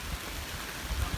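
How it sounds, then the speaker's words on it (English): Steady rain falling around a campsite near a river, a soft continuous patter with a few heavier low drips, moderately quiet and close, with no talking. "It's supposed to rain for about 3 hours, so we'll see how long it rains."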